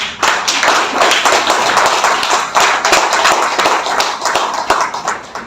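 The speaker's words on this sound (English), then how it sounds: "Please welcome him with a big round of applause." An audience claps in a sustained round of applause at an investment firm's annual meet. The clapping is dense and steady, with crisp individual hand claps throughout and no speech over it.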